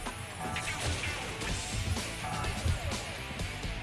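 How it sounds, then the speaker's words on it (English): Trash cans smashed apart by a Grand Shatter attack in a Dungeon Fighter Online tournament match, a dense run of crashing, clattering impacts over busy game sound effects, loud and continuous throughout. "Zophar destroys the trash cans with Grand Shatter and traps John in the corner."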